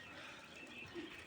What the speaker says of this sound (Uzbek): Kaptarlar, 3 oylik kaptarlar.